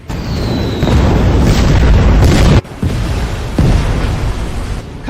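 Warship main gun firing and exploding at sea, a loud heavy boom with a long rumbling blast, a sharp cut-off, then a second booming burst trailing off.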